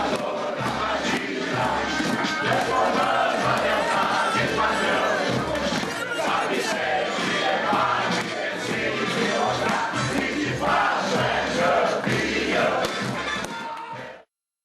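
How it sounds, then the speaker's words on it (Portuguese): Palmeiras fans in a stadium roar and chant as one big crowd, a dense, loud, sustained wall of cheering that stays steady before cutting off abruptly at the end. "Você viu aí a torcida do Palmeiras comemorando"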